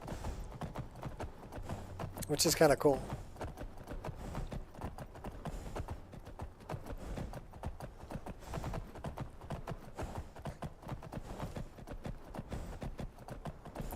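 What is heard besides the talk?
horse hooves clip-clopping in modded Skyrim video game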